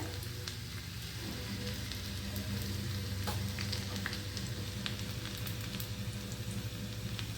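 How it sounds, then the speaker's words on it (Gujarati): Chopped garlic frying in oil for a tempering for masala khichdi, a steady close bubbling sizzle with low rumble and scattered crackles, even and unbroken, no one talking. "આપણે લસણથી વઘાર કરવાનો છે"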